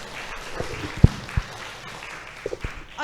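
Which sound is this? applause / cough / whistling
applause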